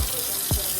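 Hot water runs steadily from a tap over sneakers that were just dip-dyed, a constant close rushing hiss with a brief low splash partway through.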